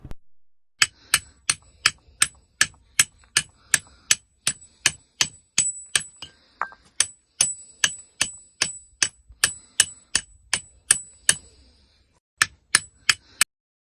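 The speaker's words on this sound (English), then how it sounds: "he's going to hammer the adapter into the fin of the mortar" Metal hammer blows drive an adapter into the tail fin of an 82mm mortar round: a long run of sharp, ringing clanks in a steady rhythm, loud and close, with a short pause before a final burst of strikes.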